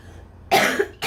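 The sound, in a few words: cough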